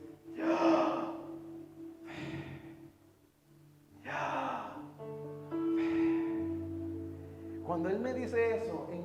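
Deliberate audible breathing that imitates the pronunciation of Yahweh, heard as a few slow breaths with a voiced, sighing quality, close and fairly loud, with a low hum underneath.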